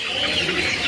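Birds at a kiosk in an Indonesian bird market, a dense steady chorus of cooing and chirping from caged birds packed close together, continuous and fairly loud with no talking.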